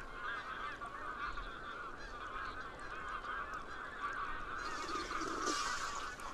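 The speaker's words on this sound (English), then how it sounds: "a flock of magpie geese feeding in a flooded" A large flock of magpie geese feeding in a flooded wetland honks in a continuous, overlapping chorus. The calls come from a moderate distance and have no clear rhythm.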